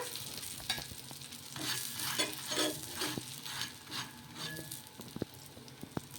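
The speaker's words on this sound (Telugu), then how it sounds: "ఇప్పుడు పైన ఇటు సైడ్ కూడా కొంచెం నూనె అనేది వేసేసుకొని ఇంకా ఇటు 2 వైపులా బాగా కాల్చుకోవాలి." Rumali paratha frying in oil on a hot pan, giving a steady close sizzle with rising and falling frying bursts and a few sharp clicks near the end, with no voices.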